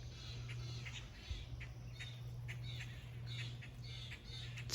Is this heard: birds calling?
yes